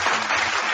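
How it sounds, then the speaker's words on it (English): Brief burst of applause, dense clapping from a group, loud and close, lasting under a second. "and then a little bit of applause right after that"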